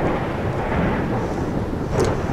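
Rainstorm ambience in the video game RimWorld: a steady, loud wash of rain with a low thunder-like rumble underneath, continuous throughout, and a brief higher accent near the end.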